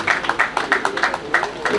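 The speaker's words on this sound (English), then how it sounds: "Round of applause for him, please." Scattered hand clapping from a crowd at a hospital grand opening, a donor being honored, with short bursts of claps in an uneven rhythm.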